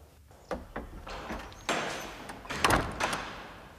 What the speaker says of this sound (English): Close the door, Sexton.